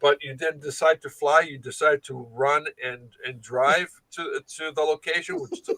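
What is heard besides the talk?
No everyday noise stands out behind the speech.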